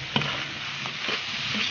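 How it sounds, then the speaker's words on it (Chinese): Pork stir-fries with lamb-leg chili in a wok, giving a continuous sizzle with occasional soft stirring scrapes over a short stretch, close and moderately loud, without speech. "把羊腿和辣子稍微炒一会儿"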